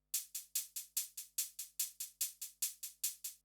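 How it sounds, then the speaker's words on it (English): Hi-hat layer in a simulation-style track playing constant eighth notes, a crisp evenly spaced run of about fifteen bright ticks with slight velocity variation, heard on its own. "One of the hi-hat layers is just doing kind of constant eighth notes"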